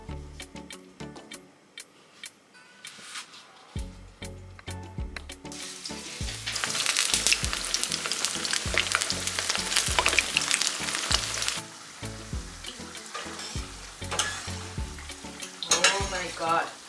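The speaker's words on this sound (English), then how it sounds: "So now I will just start frying my plantain." Plantain slices fry in a hot pan for a Jamaican-style meal, a steady loud sizzle with bursts of crackle and occasional clinks of utensil against the pan, building in intensity midway.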